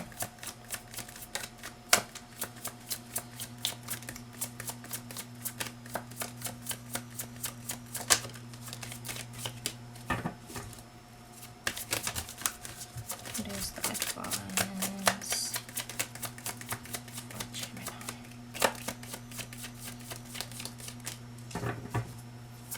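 Tarot cards are shuffled at length during a reading, with rapid riffling and flicking bursts that recur in rhythm, close and crisp, while a person talks over them.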